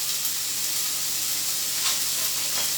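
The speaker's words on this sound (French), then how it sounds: "Je mets tous mes légumes dans ma poêle comme ça" Vegetables sizzle in a frying pan while making polenta and quinoa waffles, a steady broadband hiss with a few brief louder flares and no talking.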